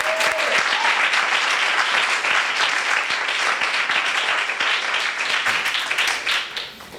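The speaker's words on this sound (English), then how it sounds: "Can we give him a round of applause?" An audience breaks into dense, sustained applause, many hands clapping steadily before tapering off near the end, with a brief voice or cheer at the start.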